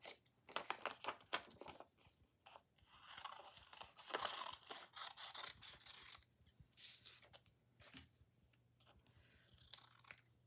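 Scissors snip and crinkle through glossy magazine paper while images are cut out. Quick close cuts and rustling come in uneven bursts with no talking.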